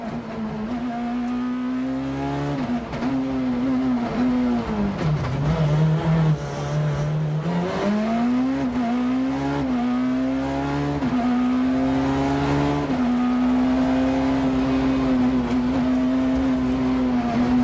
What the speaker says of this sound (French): Sur sa 207 S2000